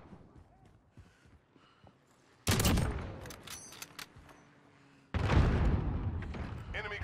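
Gunfire in the Call of Duty Modern Warfare video game during team deathmatch: two loud, sudden bursts of rapid shots, each sustained for a couple of seconds, separated by quieter background battle sounds.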